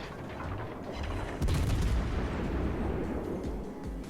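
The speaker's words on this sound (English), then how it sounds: "So I'm going to take the opportunity to start unloading my guns." Heavy naval main-battery guns of the USS Salem cruiser firing in World of Warships Legends, a sustained loud rumbling roar of blasts with a sharper boom about midway, dense low-end thunder throughout and no talk.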